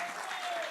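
An audience at a live entertainment show bursts into a brief, steady round of applause, dense and close, with no voices over it.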